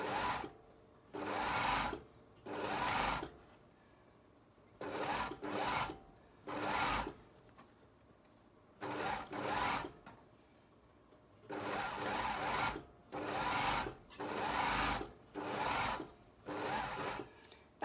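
A sewing machine stitches a seam on flared trousers in short whirring bursts of one to two seconds, about ten runs separated by brief pauses, close and clear, with no talking.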